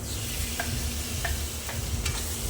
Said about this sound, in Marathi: आता त्याच्यात आपण घालायचो बारीक चिरलेलं टोमॅटो